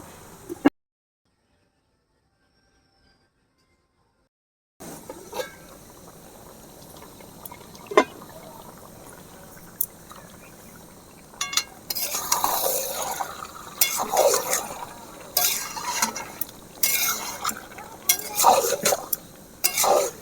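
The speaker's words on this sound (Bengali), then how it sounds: "ভালো করে মশলার সাথে চিকেনটা নেড়ে নিয়েছি" Chicken tossed with masala in a pan for Kashmiri chicken masala, opening with a stretch of near silence before scattered spoon scrapes grow into a busy, close run of stirring clatter.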